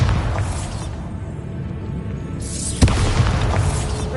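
A Bombarda explosion spell goes off in a video game: one sharp, loud boom bursts out over a steady rumbling game ambience, then trails into a sustained noisy hiss.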